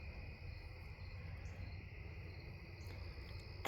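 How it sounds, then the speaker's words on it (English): Insects drone outdoors in a scenic spot, a continuous steady high buzzing with a second band above it. The sound is moderate in level, alone with no voices, and a brief rustle comes at the end. "I think those are cicadas."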